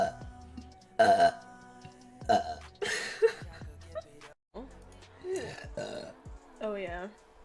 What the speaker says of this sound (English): How many burps in a row can I do?